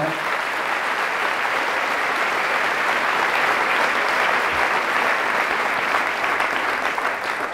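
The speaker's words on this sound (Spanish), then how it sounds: "Fuertes aplausos a la palabra del Señor." A church congregation bursts into applause after a scripture reading, a sustained, dense roar of many hands clapping at a steady level for several seconds, with no speech over it.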